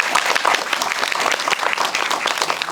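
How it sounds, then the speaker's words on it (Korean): Audience applause at a film screening talk with the director and cast, dense, continuous clapping from a full room, fairly loud and close, lasting the whole stretch without talk. "네, 박수"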